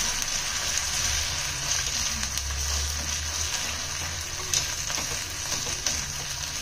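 Ginger and garlic frying in a pan for goat leg paya soup, a steady close hiss of oil with low bubbling underneath, even and continuous without pauses.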